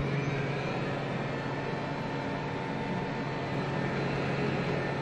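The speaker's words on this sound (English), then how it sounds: "Just so you can appreciate the amount of noise this thing makes, let's turn everything on. I'll start with the" Abekas A51 video effects combiner units powering on, giving a steady, fairly loud mechanical fan drone with a low constant hum that holds evenly without change.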